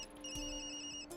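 A phone rings in the video game Tokyo Dark, a steady electronic ringtone with sustained bright tones, heard briefly and clearly.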